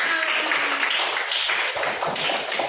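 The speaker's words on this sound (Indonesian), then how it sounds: "Tepuk tangan buat kedua kelompoknya." Clapping from a class of schoolchildren as the teacher calls for applause for two groups, a steady patter of many hands filling the room throughout with a few children's voices mixed in.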